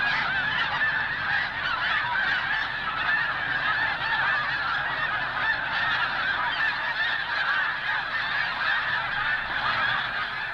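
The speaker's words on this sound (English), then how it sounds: "the fall migration of snow geese flies in" A large flock of snow geese on fall migration honks continuously, a dense, overlapping chorus of calls at steady loudness with no pauses.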